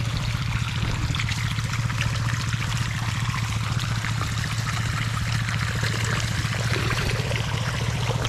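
Water gushes steadily from a motor pump running at minimum throttle, a loud, continuous close splashing rush with a low mechanical hum underneath.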